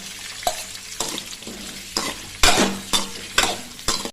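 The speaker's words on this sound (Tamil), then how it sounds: "தக்காளி, மிளகாய், முள்ளங்கி, வெங்காயம் எல்லாத்தையும் ஒரு கடாயில் எண்ணெயை ஊற்றி வதக்கணுமா" Radish, tomato, chili and onion sautéing in oil in a kadai, with a steady sizzle broken by about eight sharp scraping stirs at a regular pace, close up and with no talking.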